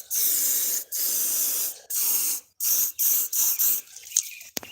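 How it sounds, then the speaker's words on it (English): Rust-Oleum Turbo spray paint hissing from an aerosol can in a series of close, loud bursts of varying length, the last few shorter and sputtering, followed by a couple of faint clicks. "Need some of that Rust-Oleum turbo paint"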